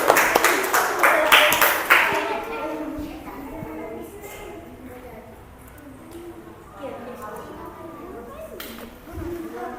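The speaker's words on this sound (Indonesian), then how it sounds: "Ya, tepuk tangan sekali lagi" Students in a classroom clap together in a quick burst of about two seconds, then a teacher's voice carries on over a quiet room.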